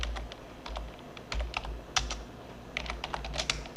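Steady typing on a computer keyboard during a spreadsheet lesson: rapid irregular clicks and key taps, close and clear, over a low background hum, with no speech.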